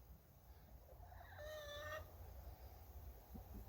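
A rooster lets out a single clear, drawn-out crow about a second long in a backyard flock, fairly close, with soft hen clucking and quiet outdoor ambience around it.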